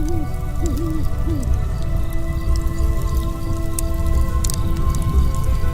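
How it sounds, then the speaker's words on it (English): Steady rain patters through a forest canopy at night and hisses onto a campfire, a continuous wash of soft noise with faint wavering tonal calls and a low drone running underneath. "Rain patters gently through the canopy, hissing against the fire as it falls."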